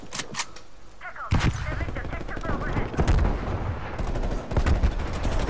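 Gunfire in the video game Call of Duty: Black Ops Cold War, with repeated sharp automatic bursts and single shots from enemies, loud and close, under excited talk from a player.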